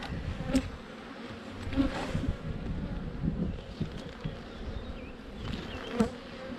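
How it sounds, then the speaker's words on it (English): Honey bees swarm around an opened hive during an inspection, a continuous close drone of many insects with individual bees zipping past the microphone amid light wind. "Actually a lot of bees."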